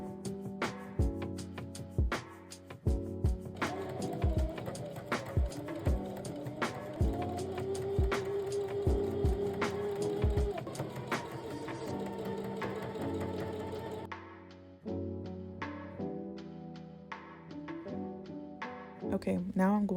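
A sewing machine hems a cotton top, its motor humming in steady runs with brief stops, while a voice talks over the stitching.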